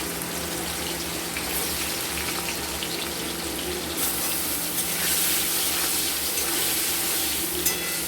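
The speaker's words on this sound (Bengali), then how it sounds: "এবার আমরা ভেজে নেব পনিরগুলো" Paneer pieces fry in hot oil in a home kitchen, giving a loud, steady, close sizzle with a bright hiss that swells slightly partway through. No one speaks.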